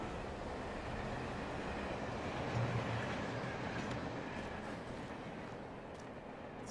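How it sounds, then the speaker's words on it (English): A train in the Alan Wake video game rolls by with a continuous low rumble and faint rattling, loud and close, gradually easing off. "Oh, it's a train."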